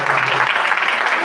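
A church congregation claps together in a loud, dense burst of applause close by, with voices blending into the clapping.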